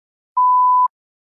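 A single steady electronic beep lasts about half a second, clean and loud against silence, marking the start of preparation time on a TOEFL speaking practice test.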